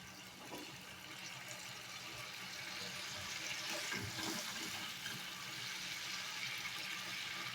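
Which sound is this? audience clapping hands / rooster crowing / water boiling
water boiling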